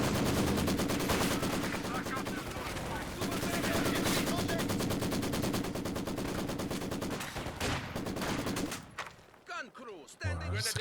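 Maxim machine gun suppressing fire in the World War II strategy game Company of Heroes 2, a loud, dense and continuous burst of rapid shots layered with other gunfire and explosions, stopping abruptly near the end.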